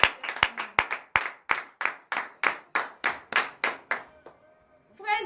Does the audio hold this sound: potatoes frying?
no